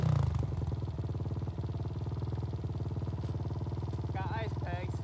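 A Kawasaki KLX 140L dirt bike runs in snow with a steady, close buzzing engine drone that barely changes throughout, and a voice cuts in briefly near the end.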